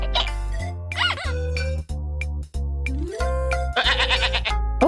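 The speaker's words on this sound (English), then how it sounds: "That animal is called a sheep." Sheep bleat repeatedly and loudly, a series of wavering baa calls coming one after another with short gaps between them.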